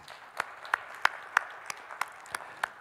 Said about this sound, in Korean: 큰 격려의 박수를 함께 하시겠습니다